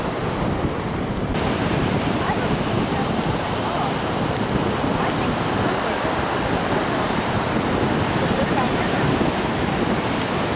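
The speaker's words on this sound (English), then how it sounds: "You're talking and I can't hear you over the waves." Ocean surf crashing onto a beach at Myrtle Beach, a loud continuous roar of breaking waves with wind buffeting the microphone, steady throughout.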